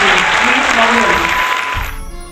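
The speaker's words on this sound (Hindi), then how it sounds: "जोरदार तालियां हो जाए बाबूलाल जी।" Loud, dense applause in a hall at a cine training centre event, a steady wash of many hands that fades out near the end, with a low voice briefly under it.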